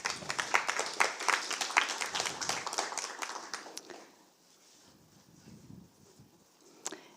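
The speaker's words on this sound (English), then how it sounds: "Round of applause." Audience applause at a DevFest Berlin tech conference talk, dense clapping for about four seconds that then stops, leaving a quiet room with a faint murmur and one last clap near the end.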